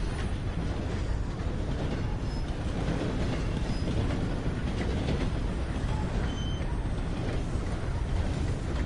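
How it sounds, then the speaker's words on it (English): A red train rolls past in Red Dead Redemption 2, a steady low rumble of rail cars and wheels held at an even level for several seconds. "Nice red train."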